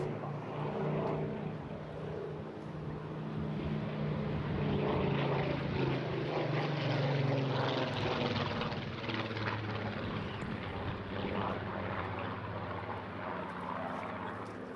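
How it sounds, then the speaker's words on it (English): A Supermarine Spitfire powered by a Rolls-Royce engine flies at the Eastbourne airshow, a deep propeller-engine drone that swells as it nears, peaks mid-pass and fades slightly, heard at moderate distance. "representing the heritage of the Spitfire alongside, of course, the Rolls-Royce engines that powered them"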